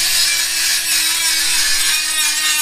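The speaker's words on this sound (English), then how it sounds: "let's see if I can grind this thing down" Power grinder working down a cut edge on a steel Jeep JL front bumper, a loud steady abrasive whine held without a break, up close.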